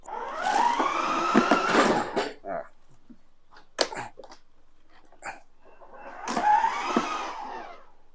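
An electric kids' ride-on car carries a 72 kg adult, its motor giving two bursts of rising and falling electric whine, with quieter clicks and knocks between them.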